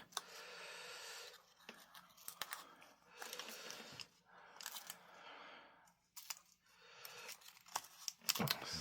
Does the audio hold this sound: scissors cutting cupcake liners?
yes